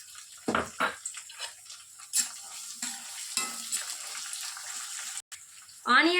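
Two medium onions drop into hot oil in a pan for a Telugu amaranth-leaf and tomato curry, followed by stirring and a soft, steady sizzle, with a sharper hiss near the end.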